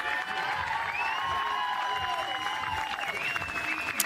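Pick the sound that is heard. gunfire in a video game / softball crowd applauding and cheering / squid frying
softball crowd applauding and cheering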